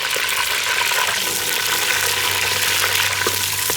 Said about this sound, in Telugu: నూనె బాగా వేడెక్కిపోయింది ఫ్రెండ్స్. ఇదిగోండి ఈ బిర్యానీ ఆకు, పువ్వు, మిరియాలు, దాల్చిన చెక్క, యాలకులు వేసేస్తాం.